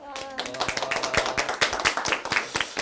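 A small audience at a corporate event claps enthusiastically, a quick, dense run of close hand claps lasting a few seconds, loud and fairly even in rhythm.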